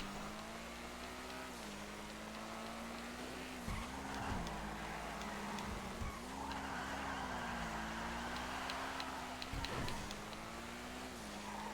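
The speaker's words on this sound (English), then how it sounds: "sound this car makes while driving is absolutely sick" A sports car engine, an Ocelot Lynx in GTA Online, drones steadily as it drives, with tires squealing and skidding through several corners, no talking over it.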